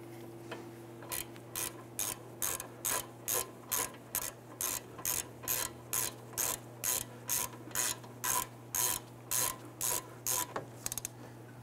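Caliper bolts on a 2005-2010 Chrysler 300 front brake get snugged with a ratchet: about two dozen evenly spaced bursts of close, crisp clicking over a steady low hum.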